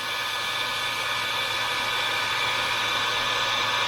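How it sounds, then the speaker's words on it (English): A heat gun blows continuously at close range as heat shrink tubing is shrunk over alternator wiring on a 1974 Dodge Charger, a steady loud airy roar with no break. "And you can just take a heat gun to it."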